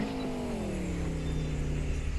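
A car in the Indian Theft Auto video game flips over after a ramp, its engine droning steadily with a gliding pitch, loud and continuous with no talk.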